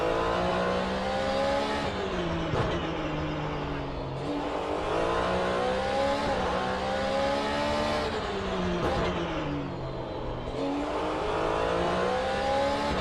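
A Porsche 911 GT3 race car in a racing video game on a Detroit street circuit drones continuously, its engine rising and falling in pitch through repeated revs and gear shifts for the whole stretch.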